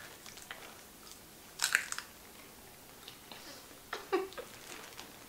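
Sour candy being chewed close to the mouth, with sharp crunches at two moments amid softer, quiet chewing and squishing.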